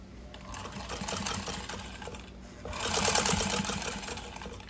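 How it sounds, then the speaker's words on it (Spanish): A sewing machine stitching in reverse to backstitch and lock a seam, with a close, steady mechanical whir and rapid needle ticks that pause briefly and then resume louder. "la máquina me va a coser hacia atrás para rematar"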